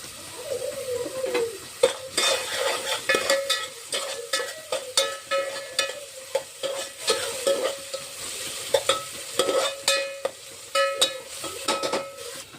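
Carrot pieces stir-fry in a pan with onions, giving a soft background sizzle under repeated close metallic scrapes and clinks of a spatula against the pan in an irregular rhythm.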